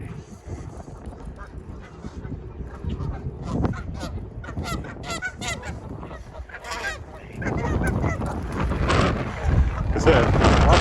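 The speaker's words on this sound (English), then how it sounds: "As I said, lots of birds over here." Geese and other water birds honk around a lake with rowing, kayaks and canoes in Regina, calls overlapping in a busy outdoor scene that grows louder toward the end, with faint talk in the background.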